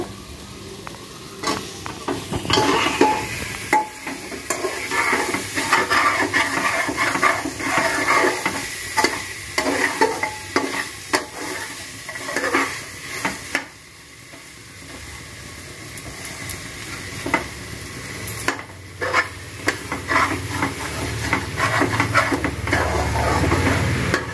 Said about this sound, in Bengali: মশলা মোটামুটি ভাজা হয়ে গেছে